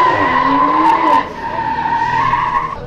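A pink BMW race car's engine roars at close range with a sustained, shifting tone as its tires squeal and skid loudly over about three seconds.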